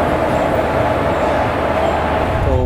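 A Humsafar Express passenger train running on the route toward Chennai, heard from on board as a loud, steady rumble of wheels and rail that holds without a break.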